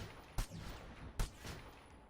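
Gunfire in a first-person shooter video game strikes a wall, two separate heavy bursts about a second apart, each with a booming low thump and a tail that fades away, with no voices.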